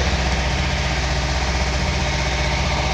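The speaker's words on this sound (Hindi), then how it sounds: "तो ये अभी ऑन किए हैं इंजन को, इसीलिए थोड़ा टाइम दे रहे हैं।" A Kawasaki ZX10R motorcycle engine idles just after being started, a loud, steady, low mechanical drone with a fine pulsing vibration, close by and unbroken, with nobody speaking.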